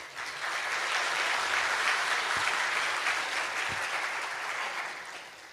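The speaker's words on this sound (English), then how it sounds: "Please give him a big round of applause" An audience applauds steadily at an honorary doctorate ceremony in Aviation Management for President Samia Suluhu Hassan. The dense, sustained clapping swells quickly, holds for several seconds, then tapers off near the end.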